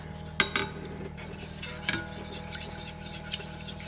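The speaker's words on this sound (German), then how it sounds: "Als erstes tue ich die Nudeln und das Tomatenpüree so in der Pfanne aufkochen und immer schön rühren." Pasta and tomato puree stirred in a pan as they come to a boil, with a few soft utensil scrapes and clinks against the pan over a steady low kitchen hum.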